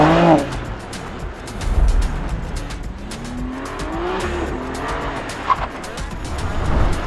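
550-horsepower BMW M2 driven hard, tires squealing and skidding as the engine revs rise and fall, fairly close and loud, with a brief voice at the start.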